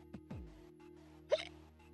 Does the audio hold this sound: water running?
no